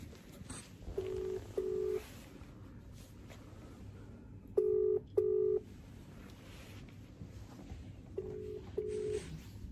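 Phone tones from an outgoing call: three pairs of steady beeps at regular intervals, moderately loud over a low background hum, with no voices.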